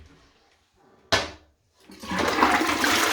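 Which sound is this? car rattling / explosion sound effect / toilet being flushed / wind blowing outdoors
toilet being flushed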